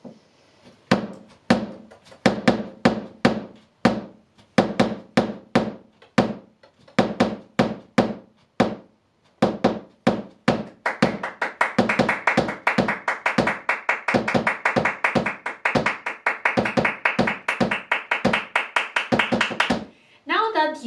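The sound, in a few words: flamenco foot stamping with clapping (tamp and contratamp)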